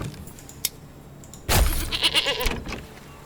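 Goats bleating in the medieval farming strategy game Manor Lords, a short burst of animal calls rising loudly after a quiet start and fading over a couple of seconds, with no talk.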